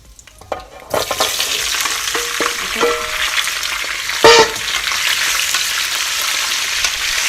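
Potatoes dropped into hot oil with cumin for jeera aloo, a quiet start that bursts into loud crackling sizzle, then a steady fry with a few clatters and one sharp loud stir.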